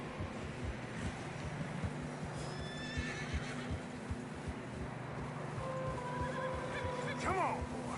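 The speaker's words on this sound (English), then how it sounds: "Horses are struggling." Horses whinny and neigh while trudging through deep fresh snow in the video game Red Dead Redemption 2, with plodding hoofbeats and wind beneath them and a loud whinny near the end.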